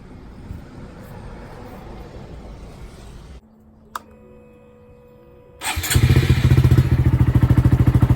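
Motorcycle fitted with a new eBay exhaust, silencer in: steady background noise and a brief clunk give way to the engine starting up near the end and settling into a close, throbbing idle.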